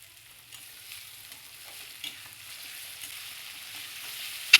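Chopped tomato and green chillies frying in a pan, a faint steady sizzle with a few soft stirring scrapes, quiet and close.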